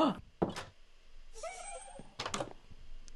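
Double doors in the Minecraft video game clunk open and shut, with sharp wooden thuds at the start and again near the end and a brief softer sound in between, no talking.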